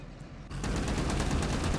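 Sustained machine-gun fire from a tank in the Cold War strategy game Gone Hot 1968, a dense, loud rattle of rapid shots that kicks in after a brief lull and continues without pause.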